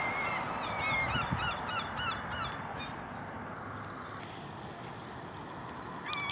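Ducks at a pond in a Great Yarmouth garden seating area, being fed, honk and quack repeatedly over steady outdoor background noise, a busy chorus of birds close by.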